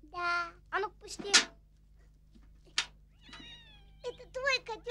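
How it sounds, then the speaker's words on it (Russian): A kitten mews in several short, high, thin cries spaced across the moment, close by and fairly soft, with a voice mixed among the calls in a 1965 Soviet film. "Смотри, котенок."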